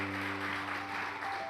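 A church congregation applauds during a sermon, producing a brief, steady patter of clapping over a low sustained hum.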